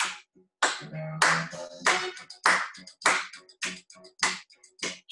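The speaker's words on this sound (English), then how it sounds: "Ready? Clap." A group in a seated chair dance session claps hands in sharp, separate beats, about ten claps in a steady rhythm, close and distinct, with a few voices at the start.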